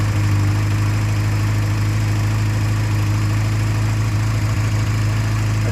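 A 1992 Yamaha XJ600 Seca II motorcycle engine running steadily at idle, a loud, close, continuous low rumble with no talking.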